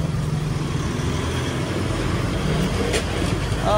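Road traffic of cars and trucks at a festival in Taysan, Batangas, a steady, close rumble of engines and tyres running throughout with no clear individual passes and no talk.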